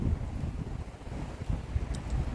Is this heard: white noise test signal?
no